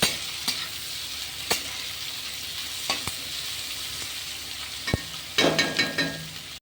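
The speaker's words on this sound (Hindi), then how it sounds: "तो ये है 3 प्याज बड़ा बड़ा। तो इसे मैं भून लूँगी" Three large onions fry in a pan for Bihari jhor bhaat, a loud continuous sizzle broken by repeated scraping stirs and clattering spoon strokes, busiest near the end.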